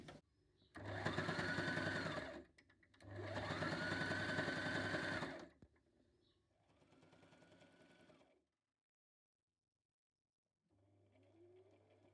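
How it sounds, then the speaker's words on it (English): A sewing machine runs in two long bursts of rapid stitching, then a softer, slower run, with a brief quieter stretch near the end. "I'm just going to sew these together."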